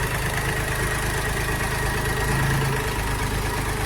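A Jinma 244 tractor idles on a tractor lot in Zhytomyr, its engine chugging in a steady, close, even low drone with no voices.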